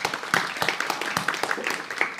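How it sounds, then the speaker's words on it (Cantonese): A church congregation applauds during a sermon, steady moderate clapping from many hands filling the space for a couple of seconds. "將掌聲俾耶穌好嘛"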